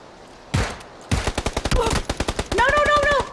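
Single shots from a semi-automatic rifle fired in PUBG, a close, loud crack followed by a rapid string of separate reports, with brief pauses between some bursts of fire.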